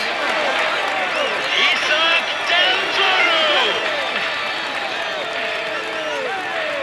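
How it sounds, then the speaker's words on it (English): A large video-game crowd at a Tour de France stage finish on Alpe d'Huez applauds and cheers steadily, dense clapping and a roar of voices filling the space without letup. "Come on, let's applaud him."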